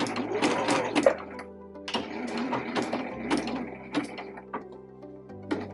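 Domestic sewing machine stitching fabric for a bread bag straight down to a pin, then a short back stitch: bursts of rapid mechanical whirring with brief pauses between runs, close and steady, no talking.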